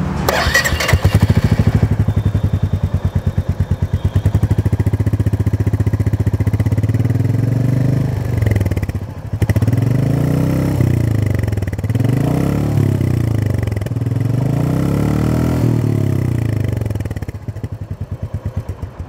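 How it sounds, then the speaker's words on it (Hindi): A 2020 Royal Enfield Meteor 350 single-cylinder engine chugs steadily at idle with a deep, even thump, revved a few times in rising-and-falling swells before settling back, close and loud. "मैं आप लोगों को इस बाइक का एक बार साउंड सुना देता हूँ कि इस बाइक का जो साउंड है वो कैसा है"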